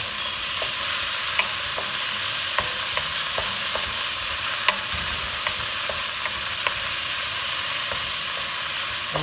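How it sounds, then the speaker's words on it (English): Beef and broccoli with turmeric sear in a pan over very high heat, a steady loud sizzle broken by frequent clicks and scrapes from stirring. "We're gonna braise this really fast and let it cook all the way through on real high heat."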